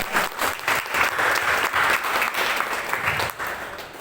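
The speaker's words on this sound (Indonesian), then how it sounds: "Berikan tepuk tangan sekali lagi." Church congregation applauding together, a dense, steady wash of many hands clapping that stays loud throughout and thins slightly near the end.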